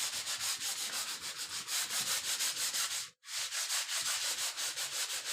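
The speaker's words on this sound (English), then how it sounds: "So we're going to give these chest of drawers just a quick sand." Steady rhythmic sanding of a wooden chest of drawers, close and loud, with rapid back-and-forth rasping strokes that stop briefly midway before resuming at the same pace.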